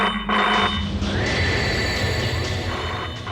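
A strange phone that had been dead suddenly rings on its own, a loud, close electronic ringing tone repeating in pulses over a low rumbling background.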